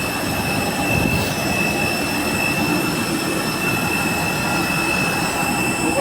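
Airplane jet engines at an airport terminal, a constant loud roar with a high whine held over it, steady and unbroken for several seconds.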